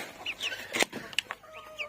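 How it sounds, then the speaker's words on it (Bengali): Hens clucking and cackling before laying eggs, in short, sharp bursts, a few loud squawks rising above quieter clucks, no one talking. "ওই পাশে মুরগি চিল্লাচ্ছে ডিম পারবে দেখে"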